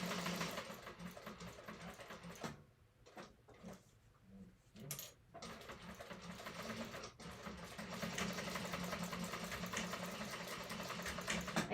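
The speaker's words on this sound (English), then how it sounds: "second line of stitching. And you don't have to do the second line of stitching" A sewing machine runs a second line of stitching through thick vinyl, a close, steady mechanical whirring rattle that briefly pauses and restarts before running on continuously.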